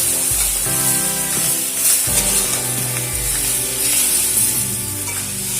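Pointed gourd (potol) sautéing with spices in a pan, a steady close sizzle and fry with scraping stirs throughout, no talking.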